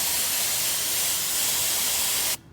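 A spray nozzle set to mist sprays cleaner onto dirty dirtbike boots. The hiss is close and continuous for about two seconds, then cuts off abruptly.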